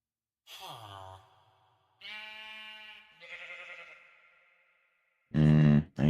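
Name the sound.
sheep bleating in Minecraft video game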